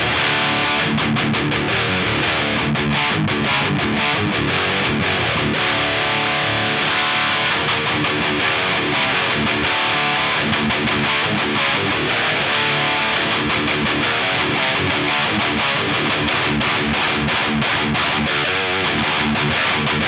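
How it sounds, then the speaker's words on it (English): Electric guitar played through a high-gain amp, its front end pushed into natural distortion, producing a dense, loud, continuous distorted tone with rhythmic picking throughout. "we're just pushing the front end of the amp into more natural distortion."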